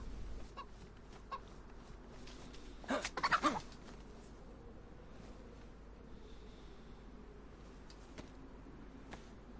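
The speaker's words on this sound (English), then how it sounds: "I can hear a chicken." A chicken in the game DayZ gives a short burst of clucking, faint against quiet ambient background noise.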